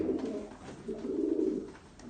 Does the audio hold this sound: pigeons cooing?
yes